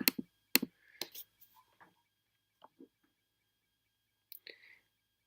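Computer keyboard keys click in a few sparse, close taps, with scattered small noises between them in an otherwise quiet room.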